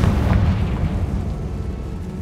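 Confringo spell explosion in the Hogwarts Legacy video game, a deep rumbling blast that fills the moment and slowly trails off, loud and without speech.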